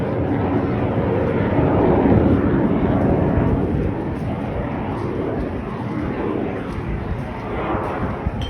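Aerobatic display aircraft at the Eastbourne air show roar overhead in a loud, continuous engine drone, with wind buffeting the microphone throughout.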